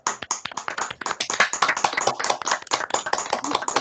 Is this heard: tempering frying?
no